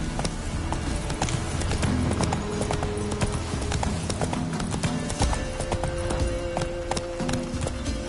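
Hooves of the horse Roach clatter in a rapid gallop in the video game Witcher 3, with a continuous drumming rhythm over ambient game sound and an occasional snort or whinny.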